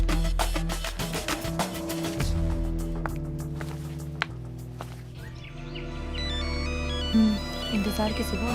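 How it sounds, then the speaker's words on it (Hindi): A mobile phone ringtone plays for an incoming call in a Hindi comedy film, a melodic electronic tone rising over background music and room sound, with speech around it. "परी का फोन है।"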